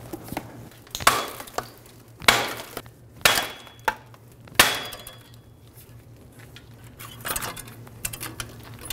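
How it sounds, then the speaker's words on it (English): A hammer knocking a wheel bearing out of the rear hub assembly of a 2007-2011 Toyota Camry: sharp metallic strikes at irregular intervals, several loud close blows followed by quieter taps, in a workshop. "we're going to use a hammer and hit the back of this and push the wheel bearing out"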